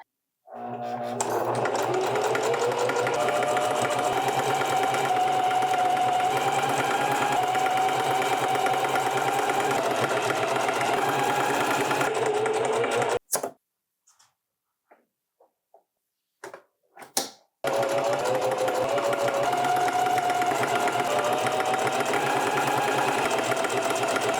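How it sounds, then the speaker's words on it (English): A sewing machine runs a zigzag stitch on pinned T-shirt fabric, a steady loud mechanical whir for about twelve seconds, then a pause with a few faint clicks, before the whirring resumes just as loud. "And get off zigzag stitch."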